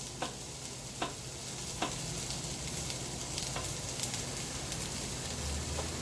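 Sliced mushrooms hit a hot pan during a home lunch cook, settling into a steady, quiet sizzle with a few sharp crackles and stirring clicks scattered throughout.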